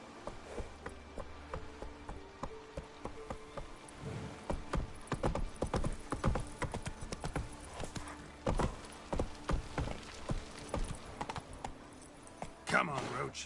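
Horse hooves in The Witcher 3 played on PS5, a steady clip-clop that quickens into a faster gallop, moderately quiet, under a voice and occasional clicking.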